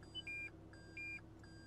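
Reverse parking sensor of a 2019 Toyota Camry sounding a few clean electronic beeps in a steady repeating rhythm, heard alone inside a quiet cabin.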